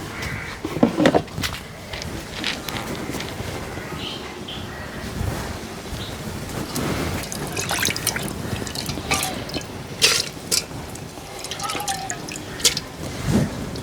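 Lentils tipped into a pot of boiling water, scattered drips and splashes over a faint bubbling hiss, close by with some wind noise.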